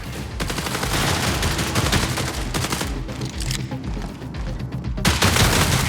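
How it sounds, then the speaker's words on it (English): Sidearm gunfire in the sci-fi shooter Marathon, a loud, dense burst of rapid shots rattling almost continuously, close and sustained for several seconds, with a brief dip before the firing resumes. "The sidearm is a gun that is effective in close quarters"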